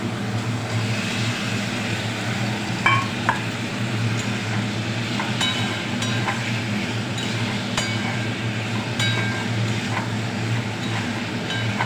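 Pieces of pointed gourd (potol) hiss in hot oil while being stirred, a continuous dense sizzle with occasional sharp clicks and scrapes of the spatula against the pan, no voices.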